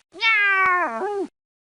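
A cartoon cat gives one long, clear, close meow with a falling then rising pitch, heard alone without talking over it.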